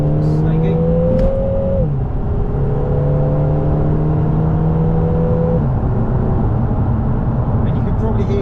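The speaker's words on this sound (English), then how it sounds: "I'm hoping you can hear the whine and the sucking and the whistling of that turbo" Lotus Emira accelerating hard in repeated pulls, its engine drone rising steadily through gears with a whistling turbo whine layered on top; the sound is close and continuous, with a brief voice heard near the start.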